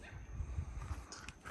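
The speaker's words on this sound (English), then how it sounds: "One of the neighborhood dogs" A neighborhood dog barks and yips a few times at moderate distance near a backyard lap pool under construction, the short bursts faint against a low outdoor rumble.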